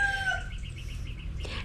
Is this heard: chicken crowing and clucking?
yes